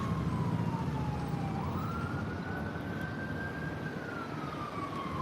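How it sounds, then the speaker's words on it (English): An emergency vehicle siren wails in downtown Clearwater during a street protest, a slowly rising and falling tone over steady traffic rumble and broad city noise, moderately distant, with no talking. "we are having a lot of sirens"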